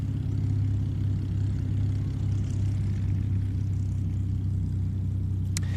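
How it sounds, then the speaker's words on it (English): Aeroplanes at the IWM Duxford air show on a D-Day commemoration flying day, a steady, continuous low engine drone and rumble that stays loud throughout, with no talk over it. "stop talking over the wonderful sound of aeroplanes"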